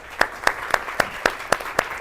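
At a corporate training session, a group claps in unison in a brisk, even rhythm of about eight sharp claps, close and clear over a quiet room.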